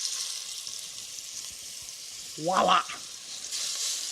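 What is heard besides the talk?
brisket searing in canola oil in a hot Dutch oven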